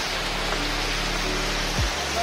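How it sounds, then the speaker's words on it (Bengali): A rain shower falls in Chattogram at dawn after a stormy night, a steady dense hiss filling the scene evenly and loudly from start to finish, with a low hum underneath. "এই সময় নামে এক পশলা স্বস্তির বৃষ্টিও।"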